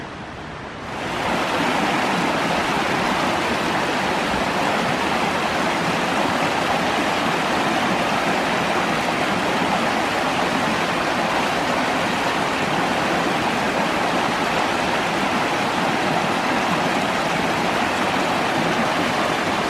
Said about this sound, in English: Traverses under this bridge on to Fagan Creek.